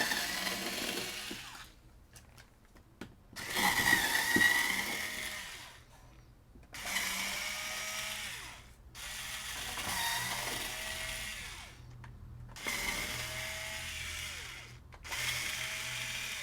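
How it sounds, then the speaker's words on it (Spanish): Screws are backed out of a PlayStation 2 console case with a power screwdriver in a series of short whirring bursts, each lasting about two seconds and separated by brief quiet pauses, close and moderately quiet. "Sacamos todos los tornillos, son 6."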